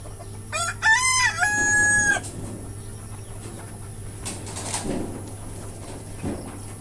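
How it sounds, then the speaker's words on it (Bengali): On a farm of local desi chickens, a rooster crows loudly nearby early on, then a few faint clucks follow from hens and roosters let out beside the coop. "5টা মুরগি বের করে দিছি আর 3টা মোরগ"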